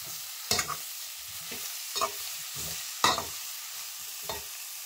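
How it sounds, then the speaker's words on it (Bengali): Spices are stirred in a sizzling frying pan, with a soft steady fry hiss broken by several sharp scraping strokes of the spatula, close and alone. "এবার ভালোভাবে নেড়ে নাও"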